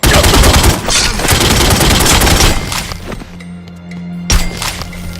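Loud bursts of gunfire in The Godfather 2 video game, a dense rapid volley of close shots for about three seconds, then a lull and one more sharp blast.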